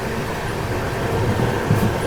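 Continuous rumble and rattle of a moving train passing Unjha in the rain, heard from inside a carriage, steady and fairly loud throughout.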